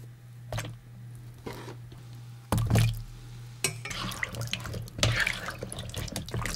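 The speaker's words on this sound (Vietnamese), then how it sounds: "Sau đó các bạn cho bầu vào đây rửa cho sạch mũ bầu ha." Bottle gourd slices about 2 cm thick being washed in a basin of water, intermittent sloshing and splashing with dripping and knocks as hands move the pieces, close up over a low constant hum, no talking.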